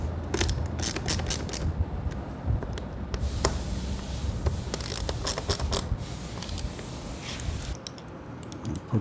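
A 4mm Allen key turns screws on a license plate relocation kit for a Ducati Scrambler, giving a dense run of small metallic clicks and ratcheting ticks, close up and busy throughout.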